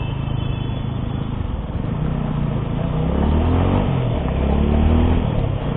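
A TVS Apache 200 motorcycle cruises down a highway, its engine giving a heavy, steady drone that swells slightly under broadband wind roar, with no talking.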